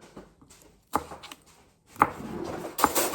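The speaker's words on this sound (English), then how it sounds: "we got to cut up the spring onions just before it's ready to" A knife cuts spring onions on a board for a spicy Korean noodle soup, with a few sharp close taps and short scraping chops spread unevenly over a few seconds.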